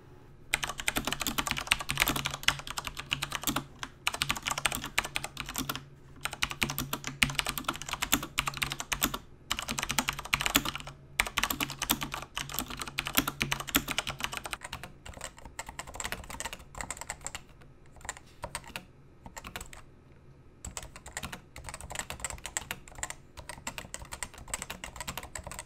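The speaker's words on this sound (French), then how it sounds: "je vais vous mettre quelques extraits audio que j'ai fait d'un côté avec des switch MX Brown et de l'autre côté les switch" Typing on a CM Storm Novatouch TKL keyboard with Topre switches and on one with Cherry MX Brown switches: fast, close, steady keystroke clatter that changes character partway through as the second keyboard takes over, with brief pauses between bursts.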